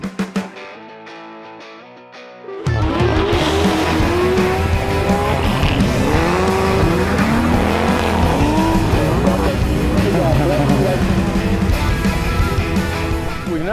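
A race car launches hard on a Pro Solo autocross course. Its engine roars up loudly after a quiet idle, and screeching tire squeal and revving continue close by for several seconds.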